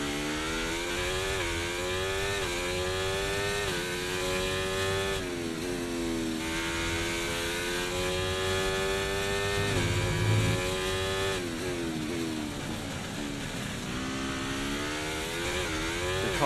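An F1 car engine in the racing video game F1 2024 drones and whines at high revs, its pitch climbing through each gear and dropping at every shift, a continuous loud mechanical roar with no talking.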